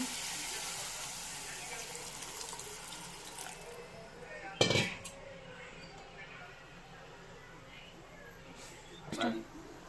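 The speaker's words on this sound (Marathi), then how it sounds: "आता आपल्याला पाहिजे तेवढं याच्यात पाणी घालून घेऊ" Water poured into a pot of dilpasand (round gourd) vegetable bhaji, a steady rushing pour that tapers off after a few seconds, then quiet with a couple of sharp clanks.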